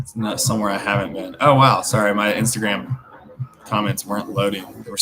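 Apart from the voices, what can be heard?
None of the usual background noises is heard.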